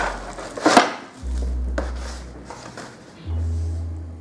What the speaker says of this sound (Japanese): まずまな板を組み立てるところから